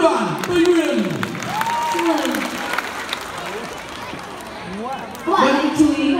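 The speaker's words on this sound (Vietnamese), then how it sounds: "Xin một tràng pháo tay cho vũ đoàn Tây Nguyên." An audience applauds and cheers for a Central Highlands dance troupe at a circus show, a broad wash of clapping that swells near the start and end with scattered voices and whoops over it.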